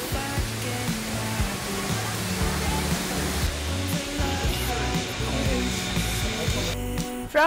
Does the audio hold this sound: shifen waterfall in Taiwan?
yes